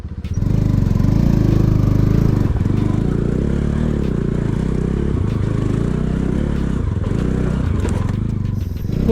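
A motorcycle exhaust silencer scrapes along a rough mountain road while the engine drones loudly and steadily, with grinding, clattering contact noises layered over the rumble for the whole stretch.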